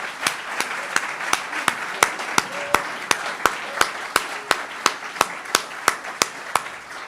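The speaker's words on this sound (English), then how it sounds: "Let's applaud." An audience at a ceremony claps in a steady, even rhythm, a run of sharp, loud, regular beats over a broad wash of applause that carries for several seconds.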